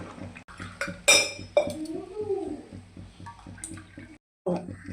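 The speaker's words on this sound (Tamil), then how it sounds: "எல்லாம் வதக்கிட்டு இப்போ தண்ணி ஊற்றிடலாம்." Water is poured into a chicken biryani pot after the masala has been sautéed, giving a gentle liquid splash with a few clinks of metal cookware, partly under someone speaking.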